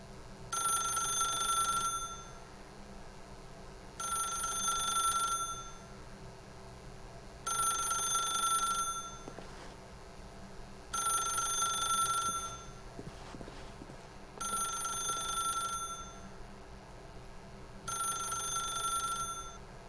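A telephone rings in The Stanley Parable, a steady bright electronic bell repeating in regular bursts about every three and a half seconds, with quiet ambience between rings.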